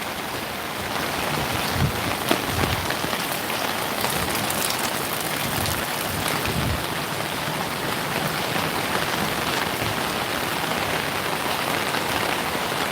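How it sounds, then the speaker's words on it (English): Heavy morning rain pours steadily in Bangkok, a dense, even hiss of drops on surfaces that fills the whole stretch with no voices, a few louder spatters standing out early on. "Kun Rang Sand, I never see the difference between getting wet from the rain or getting wet from sweating."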